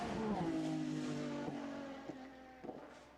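Aston Martin Valkyrie running the Goodwood hillclimb, its engine note loud and steady at first with falling harmonic tones, then fading as the car pulls away, with a few brief sharp bursts near the end.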